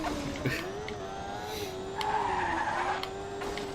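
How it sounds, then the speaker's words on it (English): An F1 car engine in the racing video game RaceCraft whines at a steady high pitch while tires screech and skid in bursts as it drifts, loud and close. "I like that I can drift an F1 car."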